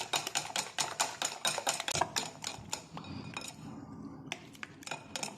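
A utensil beats a seasoned mixture with garlic powder in a bowl, a quick series of sharp clinking strikes against the dish that slow and thin out toward the end, close and fairly quiet.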